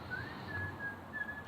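A person whistles a faint, thin sustained tune in brief wavering notes over low room hum, indoors among people.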